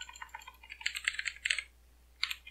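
Rapid keystrokes on a computer keyboard while code is being written for an ASP.NET Core MVC project, a close, irregular clatter of key clicks in bursts with a brief pause before a final flurry.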